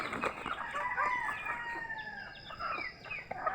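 Native chickens clucking and calling outdoors, a steady run of overlapping clucks and short cries at moderate distance with no voices.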